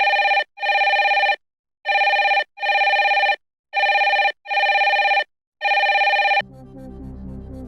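Phone ringing for a video call on a television quiz show set, four paired electronic trills with short gaps, loud and clean, cutting off into low background music.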